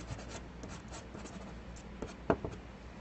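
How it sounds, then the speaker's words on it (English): Soft, scratchy pastel strokes laying down linear marks on paper, a faint run of brushing scrapes with one sharper stroke near the end, quiet and close. "So I'm making a little bit more of a linear type mark making in this section."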